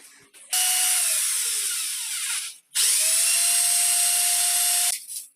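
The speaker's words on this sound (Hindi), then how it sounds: "ड्रिल हो गई है, ड्रिल लगा दिया।" An electric drill bores a hole into a bathroom wall for a fixture, with two long, loud whining runs, the first sagging slightly in pitch, separated by a short pause, close up and without talking.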